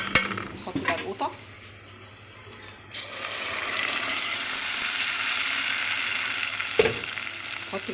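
Tomato goes into a pan of browned onions for mahshi stuffing, and loud, steady frying sizzle swells and holds after a brief clatter, with some stirring and a little water noise.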